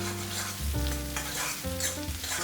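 Carrots sizzle in a hot pan with oil and Kashmiri chili while chicken fried rice is being made, a constant frying crackle mixed with stirring scrapes and steady background music.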